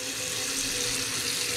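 Tap water running steadily into a large uncoated cooking pot for boiling mussels, a continuous loud gushing splash with no voices.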